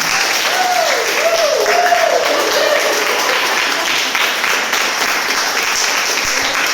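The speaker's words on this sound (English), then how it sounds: "Another big round of applause for Lily." An audience at a live talk show gives a big round of applause for the guest, continuous dense clapping with a brief voice or whoop rising over it near the start.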